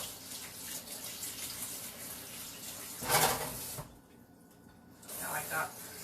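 A kitchen tap gushes while a quarter-cup measuring cup is rinsed, a loud hissing spray that cuts off briefly and then returns, with a person talking over it.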